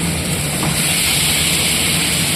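Long strips of capsicum and tomato sauté in hot oil, giving off a loud, steady, unbroken hiss that fills the whole moment with no pauses.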